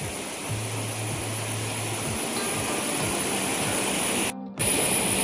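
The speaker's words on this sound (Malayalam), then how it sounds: "നല്ല തണുത്ത വെള്ളം ഇങ്ങനെ ഒഴുകി വരുന്നത്" Cold water streams steadily down a hillside brook in an Idukki village, a constant close hiss and wash with a faint low hum beneath and a short gap near the end.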